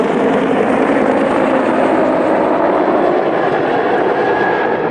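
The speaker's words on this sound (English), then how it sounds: "We've got like helicopters and planes just flying by every 2 seconds around here." Aircraft fly low over a residential area, including helicopters and fixed-wing planes, making a steady, loud, broadband engine roar that fills the whole stretch without pause and with no talking.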